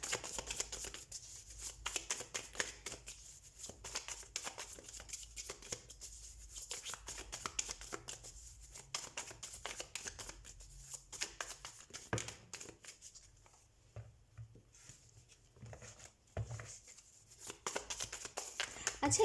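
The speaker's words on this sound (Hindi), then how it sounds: "तो हम कार्ड शफल कर लेते हैं।" Tarot cards being shuffled by hand with soft, irregular riffling and rustling bursts, fairly quiet and close, continuing throughout.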